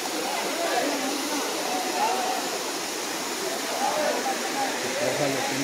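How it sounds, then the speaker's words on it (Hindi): Mountain water rushing down slopes in Kashmir, a steady broadband roar like a nearby waterfall or stream, continuous and loud throughout with no clear breaks. "ये पहाड़ों से ना पानी आ रहा है नीचे"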